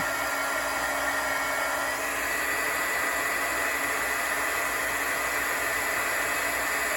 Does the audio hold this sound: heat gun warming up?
yes